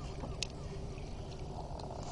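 A small boat fishing on the Limfjord creaks faintly, with a brief creak or knock near the start over soft, quiet water and wind noise.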